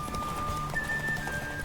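Galloping horse hooves in a race in The Witcher 3 video game, a quick clip-clop rhythm that carries through the whole stretch at moderate loudness, with a faint tonal game sound over it.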